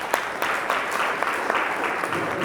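A crowd applauds at the launch of a national youth climate change conference at the University of Parakou, a dense, steady clapping with scattered sharper claps throughout.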